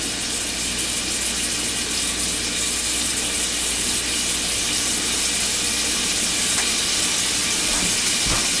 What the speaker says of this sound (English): starting to sizzle, which is a very good thing